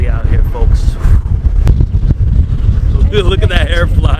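Wind buffets the microphone steadily on an open ferry deck heading toward Wall Street past Rikers Island, a constant low roar with a boat engine rumbling beneath, while someone talks over it throughout.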